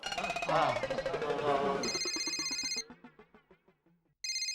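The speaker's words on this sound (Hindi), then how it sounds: "हाथी भाई का फोन" Voices talk at first inside a police station, then an electronic phone ringtone plays a bright, repeating melodic pattern, pauses briefly, and starts ringing again.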